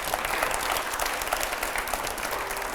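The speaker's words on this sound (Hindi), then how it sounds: "पहले जोरदार तालियां" Studio audience applauding in a TV news studio, a steady, dense burst of clapping heard alone.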